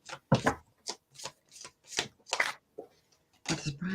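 Slippery tarot cards being shuffled in several quick riffling bursts with short pauses between, close and crisp.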